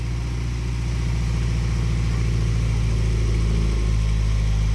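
A restored barn-find car's engine runs steadily and loud throughout, a deep continuous rumble with a low pulsing idle and slight rev variation toward the end.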